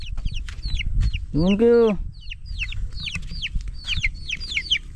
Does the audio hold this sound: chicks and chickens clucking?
yes